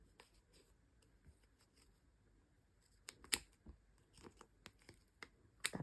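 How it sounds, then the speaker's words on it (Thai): Scissors snip through strands of knitting yarn while a knitted sweater is being finished, giving quiet, close, irregular crisp snips and rustles over a faint background, with a few sharper cuts near the end. "ใช้4 เส้นตัดแล้วก็สอดกรรไกรเข้าไป"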